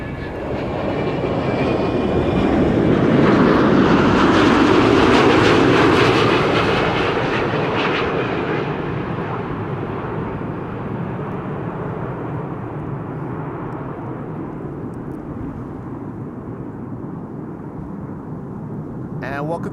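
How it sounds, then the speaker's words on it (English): A Delta Airlines passenger jet arriving at a frosty, sunny Amsterdam Schiphol Airport roars loudly, swelling to a peak and then settling into a steady broadband engine rumble and whine for the rest of the pass, with occasional talk faintly underneath. "This is Delta Airlines Flight 142, arriving from Seattle, Washington, Bill J's hometown."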